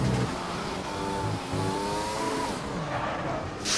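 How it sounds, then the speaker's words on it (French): A Mercedes race car spinning out at the first corner in a racing video game, with a continuous loud engine whine rising and falling in pitch and tire squeal as it slides, no talking. "le spin de la Mercedes dans le premier virage"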